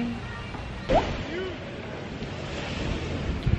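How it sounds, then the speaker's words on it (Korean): Surf washing onto a quiet village beach in Phuket, heard as a steady broadband wash with wind buffeting the microphone and a brief louder gust or splash near the start. "그냥 조용한 동네 바닷가."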